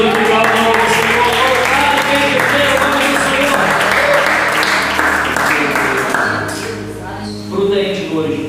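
A church congregation claps together during a Bible study, broad steady applause filling the room with music and voices underneath, thinning out toward the end.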